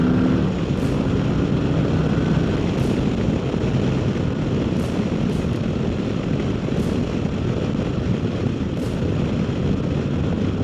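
A stock 2024 Harley-Davidson Road Glide motorcycle rolling on the throttle from a launch produces a loud, continuous engine roar with a dense low rumble, close and sustained, with no speech.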